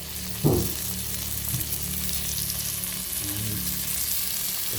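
Dried fish and eggs frying in a pan give a steady close-up sizzle that runs throughout, with a brief louder crackle near the start and a few light clinks.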